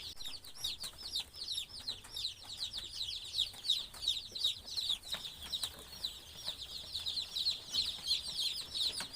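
Dense, continuous high peeping from a crowd of about 250 day-old chicks in a brooder, overlapping cheeps with soft rustling beneath, close and steady throughout.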